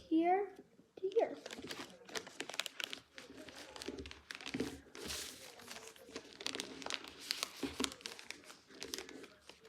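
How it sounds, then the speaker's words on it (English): Paper being folded and creased into a paper airplane, with soft crinkling and rustling throughout, close by, running under a voice talking. "fold it in half so that these two little flaps are kind of loose"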